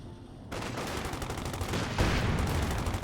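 Sustained machine gun fire in a World War II–style video game, a dense, rapid burst of shots that starts abruptly and grows louder and closer midway, with no talk over it.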